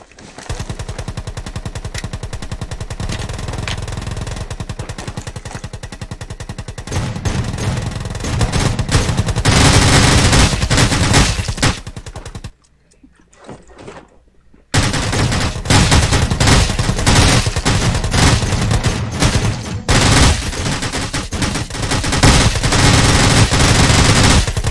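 Sustained SMG fire in the battle-royale game Rules of Survival, loud dense automatic bursts running nearly continuously, broken by a short quiet gap before the rapid shooting resumes.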